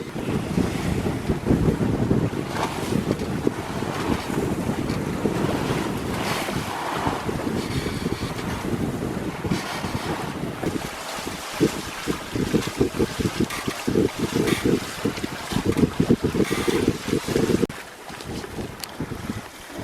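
A sailboat under reefed sails heels through wind and waves, with constant heavy wind buffeting the microphone, rushing water and splashing along the hull, and rough gusty noise throughout.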